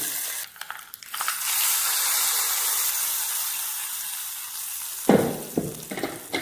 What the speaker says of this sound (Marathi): लाल मिरच्या वाळलेल्या आणि अशी मस्त तडका फोडणी आपण यावरती द्यायची आहे